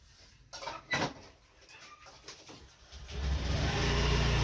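An engine turns over and revs, a deep rumble swelling and holding steady toward the end after some earlier clatter and handling noise.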